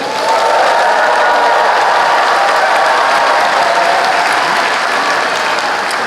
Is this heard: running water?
no